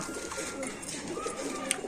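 Pigeons cooing softly at a Bangladeshi pigeon market stall, low murmuring coos running steadily under nearby voices and background chatter.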